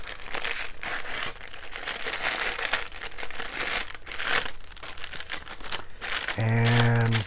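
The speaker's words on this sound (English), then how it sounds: "the white bags, usually they're clear plastic Ziploc bags, so these are kind of crinkly" Crinkly white plastic bags are handled and opened while unboxing an air cooler, giving close, loud, continuous crackling and rustling with sharp bursts. A brief tonal beep comes near the end.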